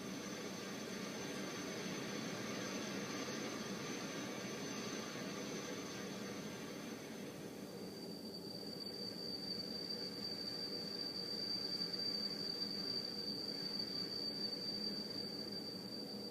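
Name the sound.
simulated tinnitus sounds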